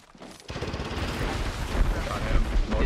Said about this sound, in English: No, I'm getting shot in the back.